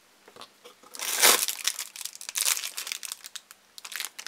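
Crinkly plastic and paper packaging of a Pokemon advent calendar being ripped open, a burst of loud crumpling and tearing followed by several shorter rustling bursts, close and alone.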